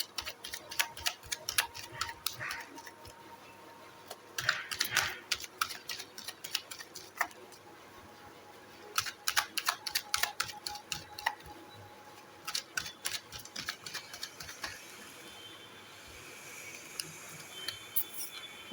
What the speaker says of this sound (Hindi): एक बार और मैं शफल करूँगी